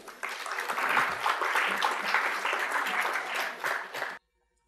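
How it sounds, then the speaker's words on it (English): An audience at a startup showdown claps loudly and steadily for about four seconds, then the applause cuts off abruptly into silence. "A round of applause, guys."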